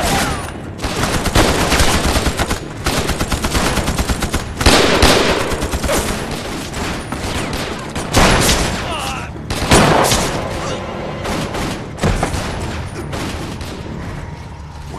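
Heavy gunfire in a wartime firefight, sustained machine-gun bursts and rapid volleys ringing out loud and close for the whole stretch, with brief lulls between salvos.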